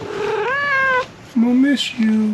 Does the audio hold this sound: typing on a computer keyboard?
no